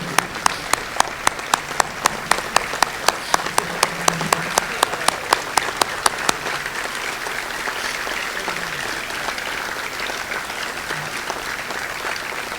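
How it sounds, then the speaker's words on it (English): A crowd at a volunteer fire department's 150th anniversary celebration claps for firefighters, a sustained wash of applause with a few distinct close claps early on, continuing steadily to the end. "let's give them all a round of applause and be recognized"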